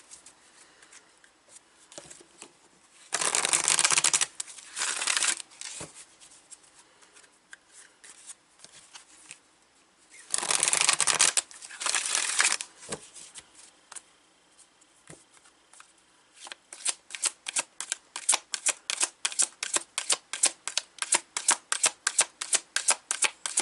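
Numerology guidance cards are shuffled close up: two bursts of riffling cards, scattered soft taps and handling between them, then a long run of rhythmic card flicks toward the end.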